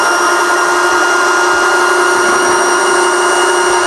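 A Graco 390 cordless paint sprayer runs in prime mode with latex paint, a loud, close, steady motor whine holding a constant pitch without pause.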